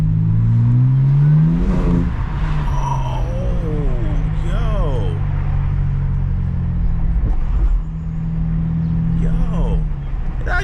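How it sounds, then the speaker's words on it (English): A BMW G82 M4 idles and revs with its exhaust valves fully open, a deep droning rumble under repeated rising and falling engine sweeps, while someone talks over it. "It actually sound pretty good with the valves all the way open."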